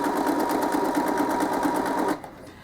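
Sewing machine running steadily at speed while stitching a free-motion zig zag, a fast even needle rhythm close by that cuts off abruptly near the end.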